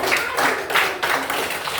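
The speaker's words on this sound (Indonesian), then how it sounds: "Tepuk tangan dulu untuk si Moses." A classroom of students claps for a classmate named Moses, a short burst of uneven hand claps with rhythmic pulses, close and moderately loud.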